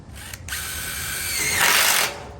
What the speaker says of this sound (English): These are self-tapping metal screws, okay? So we're gonna run one down this rafter and one down there, down that rafter